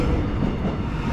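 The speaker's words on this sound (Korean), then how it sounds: "기차가 지나갈 시간이 되면 차단봉이 내려오고 곧바로 열차가 들어옵니다." A train rumbles steadily past the Seosomun railway crossing in Seoul, where Gyeongui Line subway trains and other trains run, with a dense, continuous low roar of rolling cars close by and no voices.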